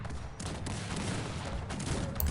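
Dense battle gunfire from the video game Cossacks 3, a continuous crackle of massed musket volleys with sharp bursts layered throughout, loud and unbroken.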